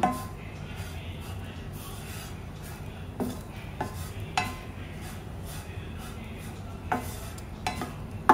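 Grated fresh coconut is stirred and tossed in a pan while being dried into desiccated coconut, giving a soft, continuous scraping rustle with sharp clicks of the utensil against the pan at irregular moments.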